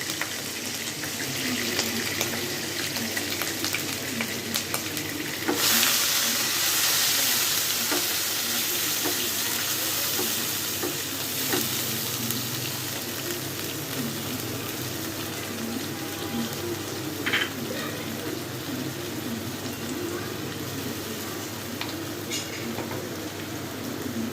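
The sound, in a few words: onions frying in a pan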